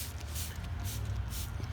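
Dormancy oil is sprayed onto dormant fig trees in repeated hissing bursts from a sprayer. Each burst is close and fairly loud, over a low rumbling background.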